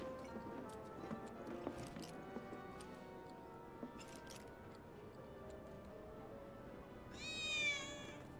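Cats meow in Final Fantasy VII Remake amid an ambient game scene with soft footsteps and ticking, and a clear, high meow rises near the end.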